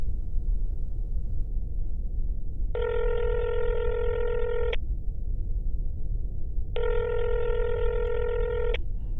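A phone places an outgoing call with two steady electronic ringback tones about two seconds long each, separated by a pause, over a constant low background hiss.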